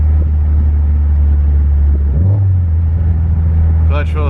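A Subaru STI engine idles smoothly after a P0300 misfire repair, giving a loud, close, steady low rumble with a slight lift in pitch partway through.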